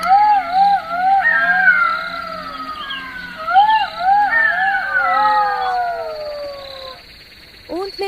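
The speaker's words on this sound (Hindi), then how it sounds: "जब गिल्लू गीदड़ का पेट भर गया, तो अपनी आदत के मुताबिक वह रात में हाउल यानी चिल्लाने लगा" A cartoon jackal howls at night in a series of loud, wavering, rising-and-falling cries that overlap and repeat, fading out near the end, with faint cricket-like chirps in the background.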